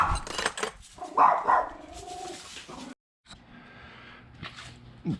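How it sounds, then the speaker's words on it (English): A dog barks a few times nearby amid rustling background noise, by a dumpster, followed by a quieter stretch with faint low hum and scattered sounds. "the dog came out and started barking"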